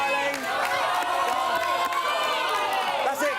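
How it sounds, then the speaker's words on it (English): A studio audience on the Big Brother UK Series 16 spin-off show Big Brother's Bit On The Side erupts in loud, sustained cheering and whooping, a dense close crowd roar filling the whole moment. "Give them a round of applause"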